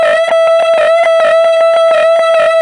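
Electric guitar played through a Fender Blues Junior amp with a Wampler Pinnacle boost engaged: a loud, driven sustained note with rapid rhythmic picked pulses, close and alone.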